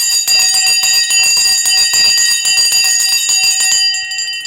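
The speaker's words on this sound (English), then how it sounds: "Let's ring the bell." The stock market closing bell rings loudly and continuously, a bright metallic clangor that holds for about four seconds before cutting off.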